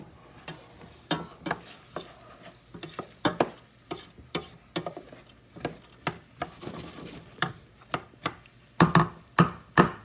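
Diced onions and vegetables cooking down in a pan for an Italian dish, heard as a run of sharp, irregular scraping and stirring strokes with a soft sizzle beneath, growing louder and quicker toward the end.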